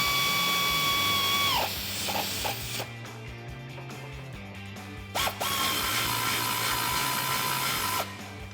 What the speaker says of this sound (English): just gonna reinstall our heat shields using that factory hardware.